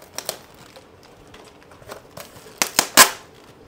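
A paper receipt and plastic packaging from a coral frag delivery crinkle and rustle at close range in short sharp bursts, growing louder toward the end.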